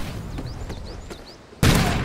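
A gun fires in a video game shooter's Onslaught DLC mode. Quiet game ambience with faint chirping tones gives way to a sudden loud, sustained burst of gunfire near the end.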